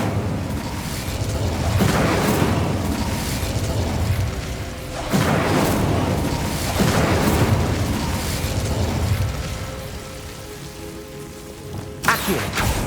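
Incendio fire spell cast in Hogwarts Legacy, heard as repeated loud whooshing fiery bursts that swell and fade in waves, with a sharp crackling burst near the end.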